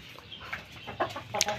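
Hens kept for eggs on a small backyard flock give a few short, scattered clucks, fairly close and soft, with no talk over them.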